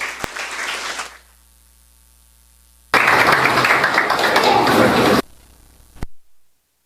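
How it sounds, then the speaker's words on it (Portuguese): Two bursts of audience applause, a shorter round of clapping, a brief silence, then a longer, louder ovation that cuts off abruptly. "com os aplausos dos presentes"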